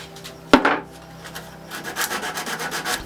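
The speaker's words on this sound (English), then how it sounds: "sanding it seemed like the easiest way to remove what was left of the old finish" Sandpaper rubs by hand over a wooden chess table to strip the old finish, a close, repeated scratchy back-and-forth rasp after a sharp knock, with no voices.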